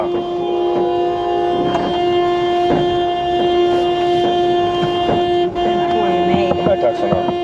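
A steady, sustained car horn blares continuously at close range, with a voice speaking over it.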